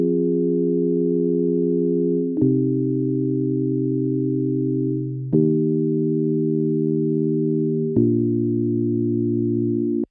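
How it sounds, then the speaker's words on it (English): Smooth, dull sine-wave synthesizer chords from a wavetable synth, four sustained chords changing every few seconds in a pop production recreating The Weeknd's Blinding Lights, clean and loud with no voices. "As you can see, the sine wave is a little too dull"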